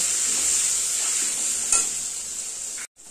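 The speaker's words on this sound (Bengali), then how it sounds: "আলু বেগুনটাকে ভালো করে ভাজা ভাজা করব।" Potato and eggplant pieces frying in a pan give a steady, close sizzle with a brief scrape of stirring, then a moment of near silence at the end; no voices.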